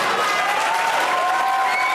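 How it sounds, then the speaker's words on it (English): A debate audience cheers and applauds loudly and steadily, with dense clapping and raised voices filling the whole moment. "I'm glad that the audience is cheering things I've written."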